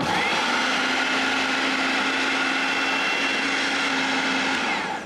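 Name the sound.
electric blender mixing soap flakes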